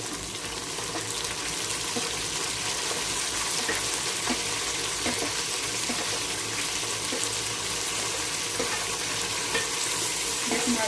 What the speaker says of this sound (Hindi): 3 अदद हरी मिर्चें ये शामिल करूंगी।